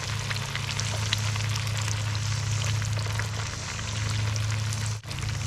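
Battered bluegill fish frying in hot oil in a pan, a continuous dense crackling sizzle that stays loud and even throughout with no talk over it.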